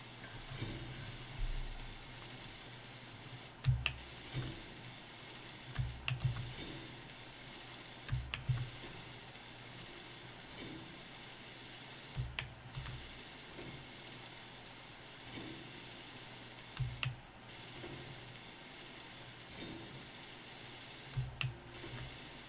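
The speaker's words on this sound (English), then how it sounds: "All right, now I just gotta weld it up." Welding components together in the video game Space Engineers: a steady mechanical hum runs underneath, broken by repeated short ratcheting clicks at irregular intervals, with no talking.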